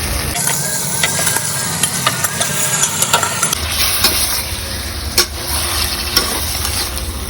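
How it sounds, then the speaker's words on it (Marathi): Chicken for Malvani chicken sukka fries in an onion-tomato tempering, a loud continuous sizzle with scattered stirring scrapes and clicks, and a steady low rumble beneath. "त्यामध्ये आपण चिकन घालायचं आणि व्यवस्थित फ्राय करून घ्यायचं."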